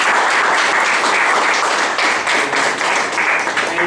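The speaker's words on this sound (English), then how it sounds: "And can we have a round of applause?" An audience at a Toastmasters division address gives a steady round of applause, dense and continuous clapping from many hands filling the room throughout.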